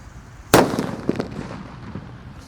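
A jumbo Halilintar firework for Takbiran celebrations goes off in a single sharp, loud blast, followed by a brief crackling tail that fades to quiet.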